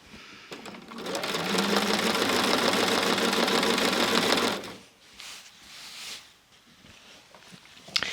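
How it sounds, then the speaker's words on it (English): Sewing machine quilting a glue-basted quilt with a walking foot, a fast steady mechanical whir for about four seconds, then stopping, followed by faint handling noises. "the walking foot is doing its thing. So I'm just holding it here and guiding the quilt with the speed of the machine"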